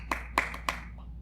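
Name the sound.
hand clapping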